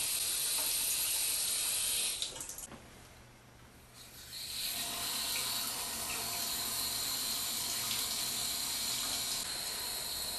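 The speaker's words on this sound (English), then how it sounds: "the right hand is rinsed 3 times, from the fingertips up to the wrist" Tap water runs steadily into a sink as hands are rinsed for ablution, a bright continuous splash that dips for a couple of seconds mid-way and then resumes at full flow.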